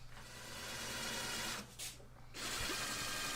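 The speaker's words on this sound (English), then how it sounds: "I got to use that little impact right angle attachment with the bit on it to get those screws in" An impact driver fitted with a right-angle attachment and bit drives screws during a workbench build, loud sustained whirring bursts close by with a brief pause in the middle before it resumes.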